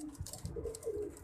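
Pigeons, a female among them, coo softly in a low repeated pattern, faint and somewhat distant, with no talk over them.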